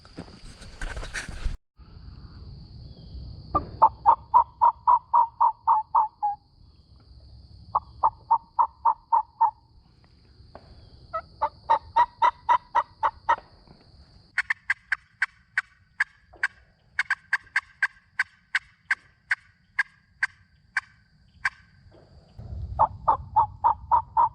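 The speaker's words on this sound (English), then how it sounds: "I can hear a hen right over here" Osceola wild turkey hen yelping in repeated rhythmic runs of sharp, nasal calls, fairly close and clear, with short pauses between series and no talking.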